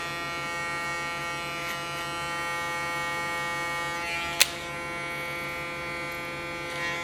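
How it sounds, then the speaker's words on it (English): Electric hair clipper hums steadily and close throughout a haircut, a constant buzzing drone with one brief click partway through. "using my clipper as a comb"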